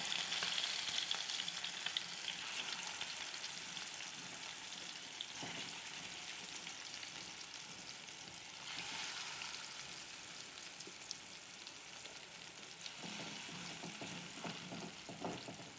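Fish pieces frying in coconut oil, a steady dense sizzle with crackling pops that stays loud and even throughout, with no voices.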